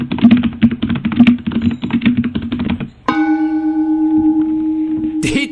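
Fast, close clatter of computer keyboard keys during a Dance Mat Typing game, a dense burst of clicks lasting about three seconds before giving way to a ringing, bell-like tone.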